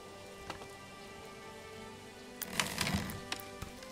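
Rain falling in the medieval city-building game Manor Lords: a steady, soft hiss of drops with a few scattered louder patters, swelling slightly for a moment partway through before settling back.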